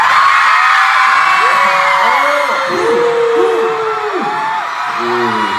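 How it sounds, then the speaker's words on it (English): A packed concert crowd screams and whistles loudly for a K-pop group at AFAS Live in Amsterdam, a dense, sustained roar of high shrieks and cheers that swells and dips slightly without letting up. "scream the loudest."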